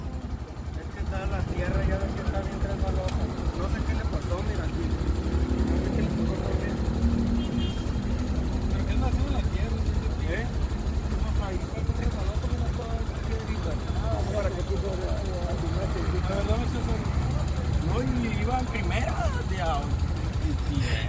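A Honda 300 motorcycle engine runs steadily throughout, a continuous droning rumble with shifting revs, under frequent talking nearby.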